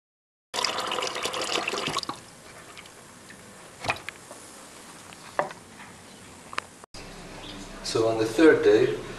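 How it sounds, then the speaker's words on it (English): Water running into a container of wheat seeds being rinsed for sprouting, a quiet trickle with soft clicks and bumps, ending in a louder burst of pouring and sloshing. "we're gonna drain the water and rinse the seeds a couple of times and fill it up like this"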